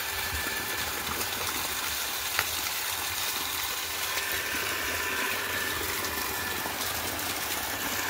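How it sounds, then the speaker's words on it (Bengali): Water from a motor pump gushes steadily into a field drain leading to a paddy field, a constant loud rushing wash with a faint engine hum beneath and no pauses. "জল যদি না ওঠে জল ওঠা শুরু হলো।"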